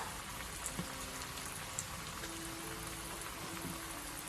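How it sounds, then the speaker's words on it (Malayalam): Potato smileys deep frying in hot oil over a medium flame, giving a steady soft crackling sizzle with scattered small pops, moderately close and alone without talk. "ഇനി നമുക്ക് നമ്മുടെ ഓരോ പൊട്ടറ്റോയും ഇതിലേക്കിട്ട് നമുക്ക് വറുത്തെടുക്കാം"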